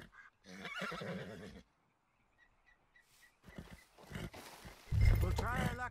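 A horse whinnies loudly near the end in the open-world video game Red Dead Redemption 2, following stretches of in-game character dialogue and a brief quiet gap.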